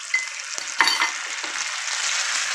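Mixed sauce poured into frying beef chilli onion sets off a bright hiss with a couple of quick clinks and bumps near the start, settling into a steady close sizzle.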